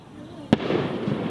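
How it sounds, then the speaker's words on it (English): A single sharp firework bang cracks out, then a noisy crackling rumble lingers. A voice can be heard faintly in the background. "Yeah. Fireworks."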